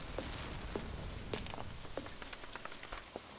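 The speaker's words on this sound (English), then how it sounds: "I mean, it's raining." Soft rain falls steadily on a farm in the game Stardew Valley, a faint continuous patter with occasional slightly louder drops, no voices.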